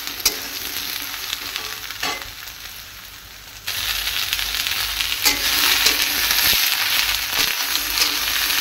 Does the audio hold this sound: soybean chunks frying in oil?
yes